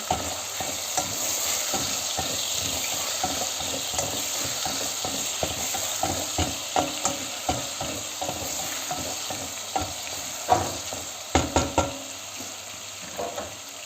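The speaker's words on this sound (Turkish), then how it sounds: "Ve etimi güzelce kavuruyorum." Diced meat sizzles steadily in a pan for a chickpea stew, stirred with soft repeated scrapes that grow into sharper clacks toward the end, close up with no voices.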